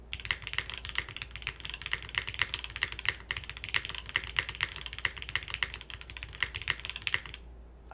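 Rapid typing on an Intro S100 full-sized mechanical keyboard with aluminium construction: dense, crisp, higher-pitched clacks in a fast continuous stream, close-miked, stopping just before the end, with no talking.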